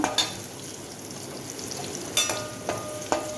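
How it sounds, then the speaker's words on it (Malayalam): Nutmeg rind frying in oil in a pan for a homestyle pickle, a steady soft crackling sizzle with a few sharper stir clatters near the end, close and alone. "നമ്മുടെ ജാതിക്ക വറുത്ത് തീരാറായി"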